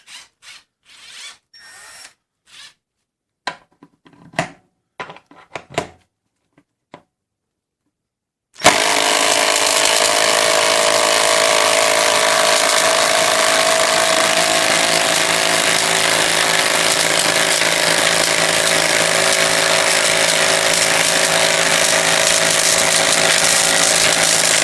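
A Milwaukee 12V 2462 impact driver drives lag bolts: a few scattered clicks and short bursts, then a loud, steady, continuous hammering whir that runs unbroken to the end, up close with no talk.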